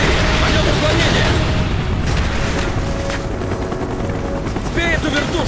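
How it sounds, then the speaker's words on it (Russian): A Mi-24 helicopter in the video game Call of Duty Black Ops thunders with heavy rotor roar amid booming combat noise, loud and continuous throughout, with a voice briefly speaking over it. "Сбей эту вертушку."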